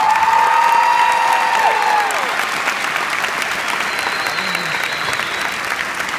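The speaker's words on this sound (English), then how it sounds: "give her a round of applause" A high school crowd applauds Nola Ochs, loud continuous clapping with some cheering. A voice is heard briefly near the start, then the clapping carries on steadily on its own.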